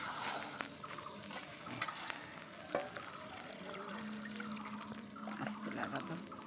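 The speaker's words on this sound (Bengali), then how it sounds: "জল দিয়ে দিই দাঁড়ো" Water poured into a pot of khichuri cooking at a home picnic, a faint pouring and sizzling wash with clinks and soft background sounds, quiet and close.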